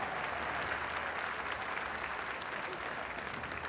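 Sustained applause fills a gym at the 2013 NSAA Class C1 girls state basketball championship, honouring award winners. The clapping is dense and even throughout, with a faint murmur of crowd voices underneath.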